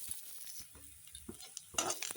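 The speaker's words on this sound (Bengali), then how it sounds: "দেখো কাঁচা লঙ্কা রসুন পেঁয়াজ ভাজা হয়ে গেছে" Green chili, garlic and onion frying in a pan, a faint sizzle with quiet stirring scrapes and a couple of light utensil clinks, close and without talk.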